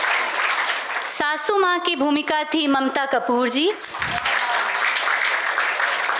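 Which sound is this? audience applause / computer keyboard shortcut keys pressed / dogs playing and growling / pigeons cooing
audience applause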